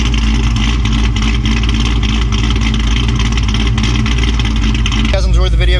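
A Terminator Cobra fitted with a Borla ATAK exhaust and aftermarket cams, its engine rumbling steadily at low throttle before a short rising rev near the end, loud and close throughout.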